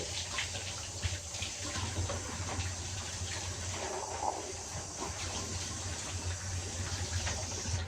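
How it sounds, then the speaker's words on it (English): Shower head spraying cool water over T-shirts lying in a bathtub, a steady close hiss and splatter that runs without a break and with no voices. "I'm going to put the shower bit on, not the bath, so that it can shower over them."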